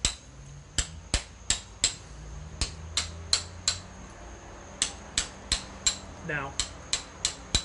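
Hammer striking a chisel to rough out the basic shape of a stone carving, sharp bright metallic taps in uneven bursts of two to four, close and clear, with a brief voice partway through.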